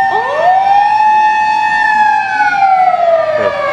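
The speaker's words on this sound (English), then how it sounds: "These are the Japanese ambulances." Japanese ambulance siren wails close and loud, a single sweeping tone that rises and then slowly falls away.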